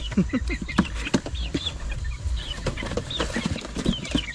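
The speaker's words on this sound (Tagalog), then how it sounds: "Ayan mga sisiw natin." Seven young chicks are shuffled about in a cardboard box, cheeping in quick, scattered high peeps over soft rustling and a few thumps, with brief murmured talk in the background.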